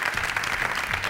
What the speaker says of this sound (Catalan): sí, la poden aplaudir.